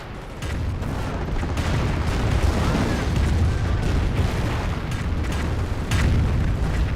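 A sticky bomb exploding amid a Company of Heroes battle, part of a sustained, rumbling barrage of booms and blasts that rolls on continuously at high volume, with a commentator's voice faintly underneath.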